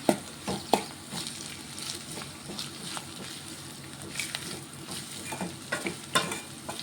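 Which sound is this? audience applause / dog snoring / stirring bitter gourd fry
stirring bitter gourd fry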